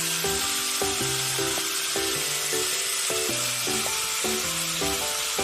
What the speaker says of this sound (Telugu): ఇలా ఆయిల్లో మంచిగా ఫ్రై అవ్వాలి